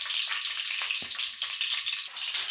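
Whole spices—fennel, cinnamon, cloves, cardamom and bay leaf—sautéing in hot oil in a pot for chicken biryani, giving a steady, close crackling sizzle with a few soft pops and no talk.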